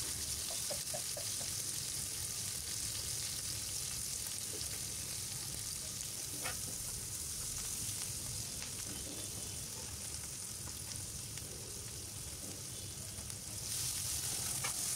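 Chopped onion and green chillies fry in oil in a pan. A soft, even sizzle with faint crackles runs throughout, quiet and continuous.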